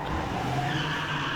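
A car skidding out of control in a video game, with a brief, loud tire squeal over engine noise. No one speaks.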